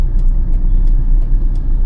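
Car engine shifting from third into second gear at slow speed with light clutch on an early-morning Chennai drive, a steady low rumble with faint intermittent ticks, fairly loud and close.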